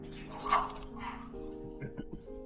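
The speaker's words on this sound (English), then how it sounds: "And my dog is very loud." A dog barks a couple of times in the background, faint and somewhat distant, under low game sounds during a Pokemon gaming stream.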